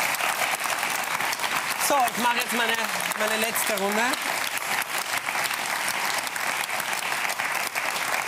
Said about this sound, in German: Ein Applaus vielleicht kurz für alle fünf.